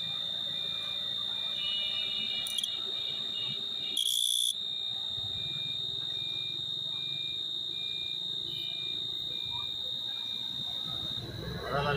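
A cricket chirps close by, giving a high, steady, ringing trill that runs almost without a break, with a voice speaking over it at times.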